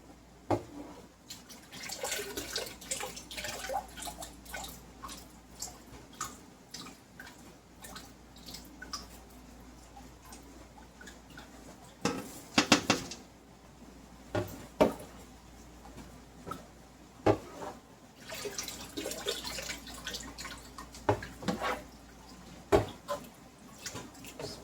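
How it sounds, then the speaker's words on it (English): Water pours and drips into a container holding beeswax chunks, a close run of wet splashes and droplet ticks with uneven bursts and no talk, during home wax rendering. "Put enough water in there to cover up the wax."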